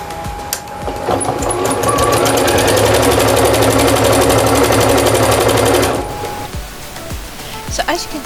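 A sewing machine quilting an evergreen wall hanging runs in one steady, loud burst of rapid stitching for about five seconds, then stops.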